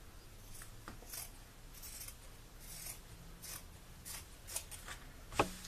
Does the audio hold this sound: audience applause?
no